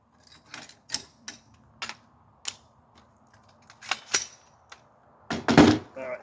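An AR-47 rifle in 7.62x39 being reassembled, a series of sharp metallic clicks and clacks of parts sliding and locking together, close and irregular, ending in a louder rattling clatter.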